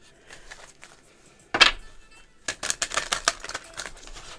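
A deck of cards is shuffled: one quick riffle burst, then a run of rapid flicking and snapping riffles close by, with no voices.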